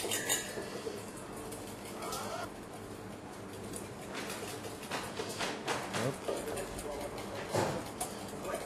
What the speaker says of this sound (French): on va verser notre mayonnaise ratée et on va remélanger tout doucement